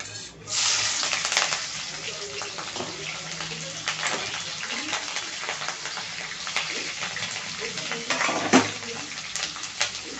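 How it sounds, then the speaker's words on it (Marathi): Green chilies and curry leaves are added to frying bombil fish in a pan, producing an uneven sizzle with crackles and scraping stirs, close and moderately loud. "आता आपण ह्याच्यामध्ये हिरवी मिरची आणि कढीपत्ता टाकणार आहोत।"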